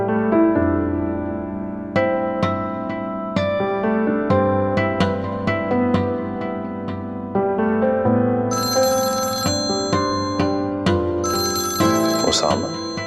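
A telephone rings repeatedly in a drama scene, a steady series of bright electronic ring bursts, loud and close, with people talking.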